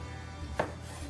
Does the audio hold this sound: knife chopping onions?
yes